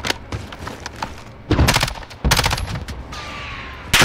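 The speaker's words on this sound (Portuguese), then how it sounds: "Deu um tiro aí, mano." Gunfire in the Warzone mode of Call of Duty cracks out in rapid sharp bursts, including dense automatic volleys, loud and close with brief gaps between strings of shots.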